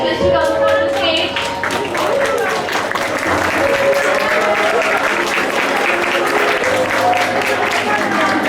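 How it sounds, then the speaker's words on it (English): Applause from an audience at a school assembly, sustained and fairly loud clapping from a crowd filling the room, with voices and music-like tones mixed in underneath. "Once again, a huge round of applause, everyone."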